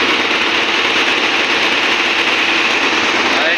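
A finisher drawing frame, model RSB-D50, runs at full speed in a textile mill, giving a loud, dense, continuous mechanical roar and whir with no pauses.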